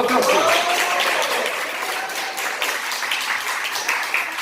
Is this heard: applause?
yes